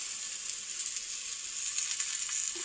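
Slices of bottle gourd fry in hot oil, giving a steady close sizzle with small crackles throughout and a brief low clink near the end.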